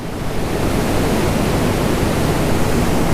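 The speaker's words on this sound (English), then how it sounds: "The river behind me is so swollen. This water is ice cold snow runoff." A swollen river of ice-cold snow runoff rushes in a dense, steady roar, loud and close with no pauses.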